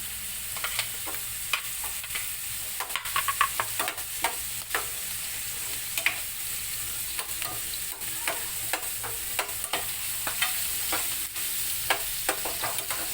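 Garlic sizzles and crackles in hot oil in a pan for a Filipino sautéed bottle gourd dish, with steady frying hiss and frequent sharp pops and stirring scrapes throughout, close and moderately loud, no talking.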